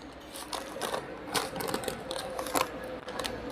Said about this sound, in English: Vertical sealing of the bag.